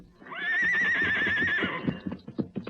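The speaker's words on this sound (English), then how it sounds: "Your horse named Silver" A horse gives a loud, close whinny that rises and warbles for about a second and a half. Hoof clatter and shuffling movement follow it.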